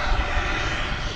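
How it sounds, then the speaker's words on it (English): A jet airplane roars loudly and steadily as it takes off at DFW Airport, a dense broadband engine rush filling the whole short stretch with no voices over it. "That was a noisy plane. Whatever that was taking off there."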